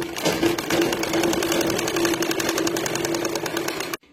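A sewing machine stitches a panel to the top of a churidar made from an old saree, giving a fast, steady mechanical whir with a constant tone for about four seconds before stopping abruptly.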